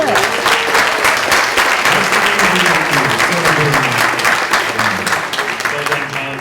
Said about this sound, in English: We should give all of them a round of applause